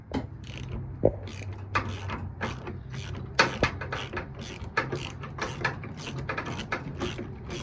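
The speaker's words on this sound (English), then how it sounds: "now I can slip a 1/2-inch socket over here and I can get this off" A ratchet turns a 1/2-inch socket to loosen a tight bolt on the frame of a Briggs Intek 21 HP engine, producing a close, steady run of rapid metallic ratcheting clicks.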